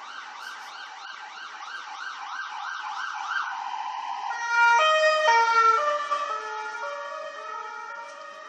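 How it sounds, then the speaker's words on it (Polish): An ambulance siren wails past a bus stop, first a rapid warbling yelp and then a louder two-tone wail that swells as the vehicle draws near and fades as it moves on, with road noise underneath. "A tutaj karetka zapierdziela."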